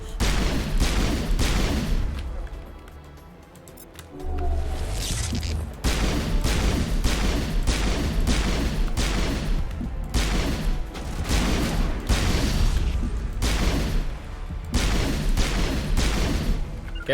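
Sustained gunfire from a Mass Effect battle: loud, rapid bursts and repeated shots with booming impacts, nearly continuous across the span, briefly easing before resuming at full intensity.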